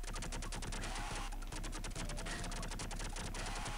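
Rapid, continuous bursts of automatic gunfire rattle without pause in the Sega game Doom Troopers, dense and even with dull thuds underneath.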